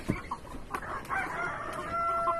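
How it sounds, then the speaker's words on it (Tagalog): Laying hens cluck faintly nearby on a small egg farm amid outdoor background noise, with a few soft bird calls and a rising fowl call near the end. "Ito manok."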